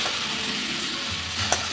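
Bottle gourd curry fries in oil as it is stirred in a pan, giving a close, steady sizzle with soft scraping and a small clink of the spoon near the end.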